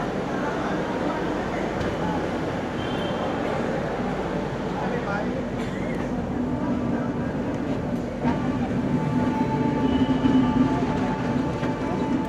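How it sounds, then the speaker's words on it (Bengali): A passenger train pulls out of platform 1 at Shalimar station, Kolkata, on a Puri-bound Rath Yatra special, giving a steady, close rumble of rolling carriages with faint murmuring voices underneath throughout. "আমাদের ট্রেন 1 নম্বর প্ল্যাটফর্ম থেকে ছেড়ে বেরোচ্ছে"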